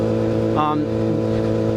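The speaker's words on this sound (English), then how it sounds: "a straight pipe inline 4 gets really loud" Straight-piped inline-four motorcycle exhaust while riding, a loud, steady droning roar that holds an even pitch throughout, with a brief rise in tone partway through.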